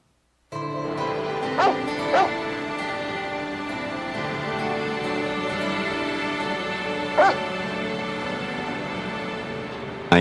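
Stray dogs give a few sharp barks and yips, two close together early and one later, over a steady droning background.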